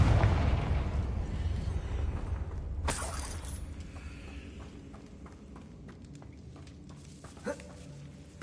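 A Confringo fire spell explodes in a PS5 game, opening with a loud rumbling blast that decays into crackling debris and scattered mechanical clatter, with no talk over it.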